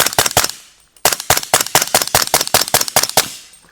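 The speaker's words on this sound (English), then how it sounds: "I'm shooting it quietly. The suppressor here makes it hearing safe." A rifle fitted with a Deadair Nomad 30 suppressor fires a rapid string of muffled shots, about twenty sharp reports in quick bursts close by, each with a short decaying tail and no speech.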